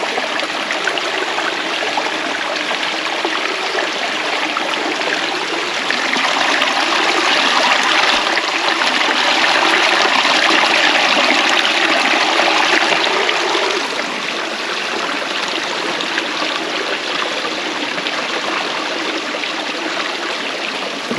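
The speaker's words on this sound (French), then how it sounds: "Oh, ici, on entend un ruisseau." Small forest stream on a hiking trail near a lake, a constant close trickling and gurgling rush of water with no voices, holding steady throughout with a slightly fuller stretch in the middle.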